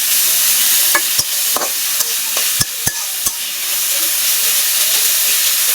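Potatoes tossed with onion and garlic in a pan for dhenki greens, a bright steady sizzle with several sharp spatula clicks and scrapes against the pan, close and without talk.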